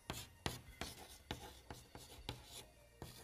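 Chalk or a marker writes quickly on a board in a regular series of short, sharp strokes, about eight in three seconds, close and fairly quiet.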